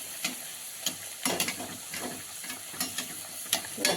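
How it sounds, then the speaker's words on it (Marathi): Plain puris fry in hot oil, crackling in irregular, close bursts of sputtering sizzle with small pops between them. "आता अपन दुसरे टाकूया आता आपण वर तेल टाकायचं"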